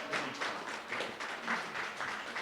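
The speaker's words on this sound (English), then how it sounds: "go ahead, Kay, clap if you want." A small crowd of people at a town education center grand opening and ribbon cutting claps together, producing steady, moderately close applause that runs for the whole stretch with a few louder swells.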